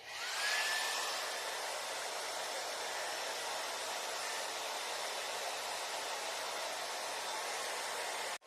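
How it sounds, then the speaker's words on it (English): A hairdryer blows air into a vacuum cleaner bag, a steady broad rushing hiss at moderate level for several seconds before cutting off. "so now you take a hairdryer"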